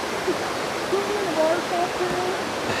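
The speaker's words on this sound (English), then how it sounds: "literally this trail turns into a stream" A stream runs down a forest trail in the Great Smoky Mountains, giving a steady broadband rush of flowing water with a person's voice murmuring faintly underneath.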